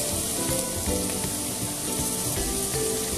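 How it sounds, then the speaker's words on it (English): Sliced mushrooms hit a pan of melted butter on a gas stove with a steady, loud, close sizzle and crackle that holds without a break while risotto is being made. "our butter is melted, so now we can go ahead and add our mushrooms"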